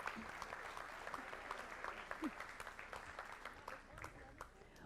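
An audience at a school board meeting applauds a student honoree, a steady round of clapping at moderate distance that fades slightly toward the end.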